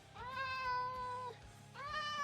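A cat meows twice, each a long, clear, drawn-out call separated by a short pause, close and loud over a faint low background hum.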